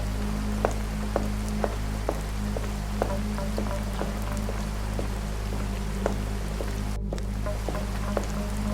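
Steady rain falls through a stormy night outside a house in a haunted village, a dense continuous patter with scattered louder drops and a low rumbling bed, a brief dropout near the end, no voices.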